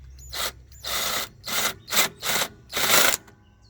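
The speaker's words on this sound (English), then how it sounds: "then you grab your screwdriver" A small 8mm socket turns a hose clamp screw on a Cummins Quiet Connect RS50 generator, giving six short scraping, ratcheting bursts in a rough rhythm with brief pauses, close and quiet.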